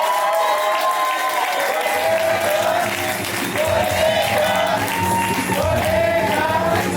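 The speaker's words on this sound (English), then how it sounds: "give a big round of applause for Bodega University" Loud, sustained crowd applause at a kiki scene awards ceremony, with voices and music-like tones mixed in over the clapping.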